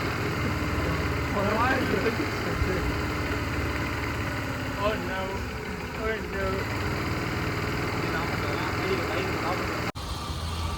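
An old-model Honda Dio scooter, freshly restored, idles at a steady, even engine hum with a light vibrating buzz, close by and continuous for the whole stretch, while someone talks over it.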